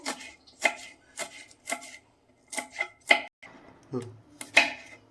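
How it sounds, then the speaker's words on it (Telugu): Ingredients for Maharashtra-style poha being chopped into small pieces on a board, a series of sharp, close knife knocks at an uneven rhythm, with quiet gaps between strokes and no talking. "ఇట్లా మంచిగా చిన్న చిన్న కట్ చేసుకోవాలి"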